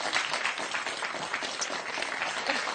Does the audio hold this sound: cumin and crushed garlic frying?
no